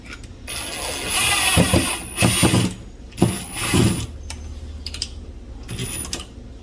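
A screw driven by power drill mounts one side of an electrical outlet box for a 10-2, 220 V outlet, heard as several close bursts of whirring drill and grinding screw with brief pauses and clicks between them.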